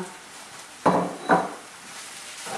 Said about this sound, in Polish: Smażymy mieszając, aby nie przybierało do dna.